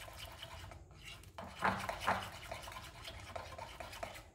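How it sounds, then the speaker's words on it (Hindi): A spoon whisks besan batter for dahi bhalla, giving a steady wet scraping and churning against the bowl, with a couple of louder knocks of spoon on rim midway, all close and continuous. "इसको इस तरह चम्मच चलाते रहना, ताकि ये फ्लफ़ी हो जाए"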